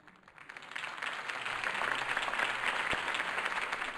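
Crowd applause after Harvey Dent's campaign speech in Batman: The Telltale Series, a dense, steady clapping from a large gathering that builds in the first second and holds at moderate loudness.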